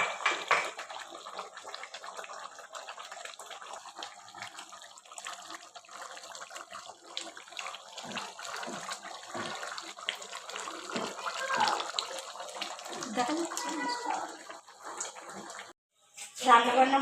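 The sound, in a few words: water running from a tap while washing dishes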